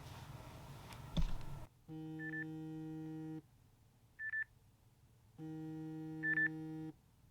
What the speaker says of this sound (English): set an alarm bright and early and grind it out